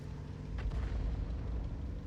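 A World of Tanks artillery shell fires and strikes an enemy E100 tank, a low rumbling boom swelling midway and rolling on at moderate loudness, with no voices.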